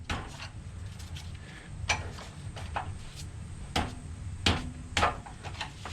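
A screwdriver is tapped against a suspension part on the frame of a 1971 Buick GS to knock it out. About five or six sharp metallic taps come at uneven intervals, close up, in a quiet garage.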